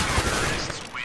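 A gunshot lands a headshot in a CS:GO match, heard as a loud, dense burst of gunfire noise that fills the whole second and fades slightly at the end.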